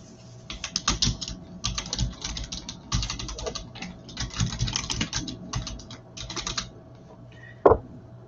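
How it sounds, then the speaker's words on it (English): Close, rapid typing on a computer keyboard comes in uneven bursts of clattering keystrokes with short pauses between runs, ending with one louder knock, and no one speaks. "we can hear you typing"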